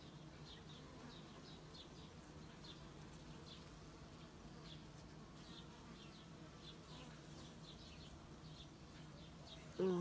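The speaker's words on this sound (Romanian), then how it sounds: "Hai, albinuță, du-te." Honeybees buzz around a hive during sunflower honey extraction, a faint steady hum with individual bees droning past in short passes, ending with a brief louder knock.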